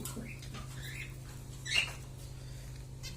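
Pet birds chirp indoors in a scatter of short, squeaky calls, some close and some softer, over a steady low electrical hum.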